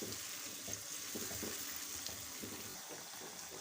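Chopped green chillies stirred into a chicken karahi, a steady close hiss of oil frying with soft scraping stir sounds under it, no voices.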